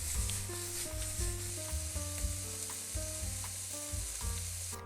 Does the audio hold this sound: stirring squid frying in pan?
yes